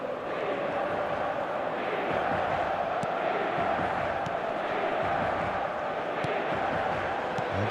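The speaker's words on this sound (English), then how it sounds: "the crowd level has gone up a notch or 10" A stadium crowd in the football video game eFootball 26 roars in a steady, dense wall of cheering that holds loud throughout, with commentary voices mixed underneath.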